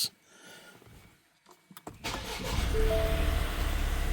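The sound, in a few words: 2022 Ford Escape engine starting after oil change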